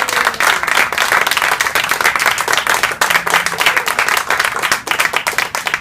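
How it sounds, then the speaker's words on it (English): An audience at a journalism awards ceremony breaks into loud, sustained applause, a dense, even wash of many hands clapping at close range with no pause for nearly six seconds. "Let's give these 3 a big round of applause."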